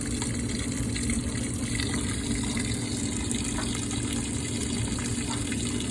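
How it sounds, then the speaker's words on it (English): Hot water gushes steadily into a washing machine tub with a constant rushing hiss, close and unbroken throughout. "So here you see the water is going in,"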